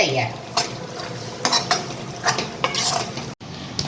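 A spoon scrapes and clinks against a pan while stirring methi potato sabzi, irregular close scraping strokes over a soft ongoing sizzle, with no talking.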